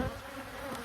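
Honey bees buzz in a dense, continuous drone during an inspection of a huge open hive, close and steady throughout the brief moment.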